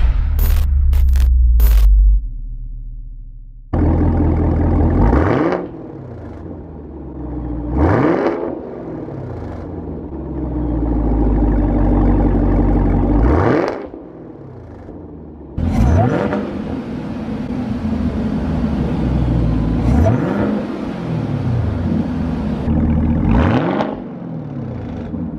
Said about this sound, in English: So there we have just a couple of revs and the exhaust is in the open track position.